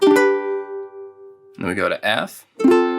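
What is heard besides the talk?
None of the usual background noises is heard.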